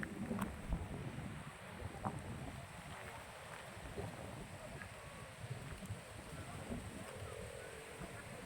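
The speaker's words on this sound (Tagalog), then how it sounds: "Sobrang lakas ng hangin." Strong wind buffets the microphone outdoors, a continuous low rumbling roar with uneven gusts, fairly faint overall and with no clear talk over it.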